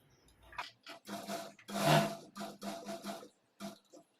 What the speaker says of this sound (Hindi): अब हम यहाँ से सिलाई लगाएंगे